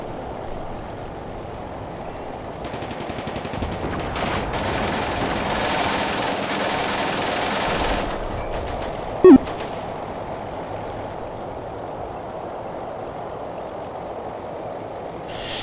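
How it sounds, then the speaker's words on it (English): Machine gun fire in the Combat Mission wargame, set in a Leningrad 1941 campaign, a sustained rattling burst in the middle of a steady background rumble, with a single sharp crack shortly after and no talk. "that machine gun is still operational"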